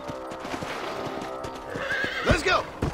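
Horse hooves clip-clop at a gallop in the western game Red Dead Redemption, then a loud whinnying neigh rises near the end over steady game music.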